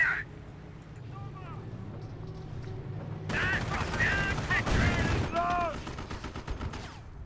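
Company of Heroes game battle with machine gun fire, a continuous crackle of gunfire and explosions that swells louder midway, mixed with voiced in-game unit callouts.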